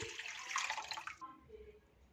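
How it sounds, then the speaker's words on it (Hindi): Water splashes briskly into a pan for about a second, then cuts off, leaving a faint low hum. "एक पैन में 2 कप तकरीबन 500 ml पानी डाल देंगे।"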